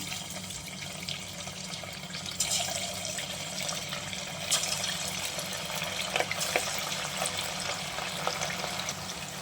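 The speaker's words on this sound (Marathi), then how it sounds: "तेल गरम झालेलंच आहे तर त्यामध्ये आपण आता हे पीस सोडून घेऊया" Chicken 65 pieces coated in rice flour sizzle steadily in hot oil, a continuous bubbling hiss with occasional sharper pops, fairly close and alone.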